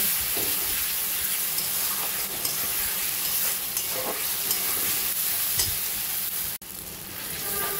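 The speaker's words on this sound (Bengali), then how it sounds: "এবার ভালো করে মশলাটা কষিয়ে নেব।" Ginger-garlic paste and chopped tomatoes sautéing in a pan for mutton mince curry, a steady loud sizzle and hiss throughout with occasional scrapes of a spatula and one brief click near the end.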